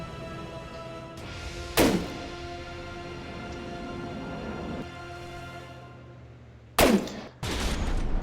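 Rear ship guns of the Konig fire in a naval battle game, with sharp booming salvos breaking over a low ambient rumble, one blast early and a pair of heavy shots near the end.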